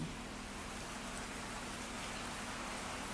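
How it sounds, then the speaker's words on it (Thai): Steady rain hisses down at a mountain-view resort-style condominium in Khao Yai, an even, continuous wash of noise with no voices. "วันที่เรามาเป็นวันที่ฝนตกพอดีนะคะ"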